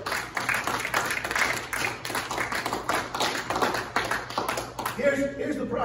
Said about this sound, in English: Give a hand clap to the Lord for that.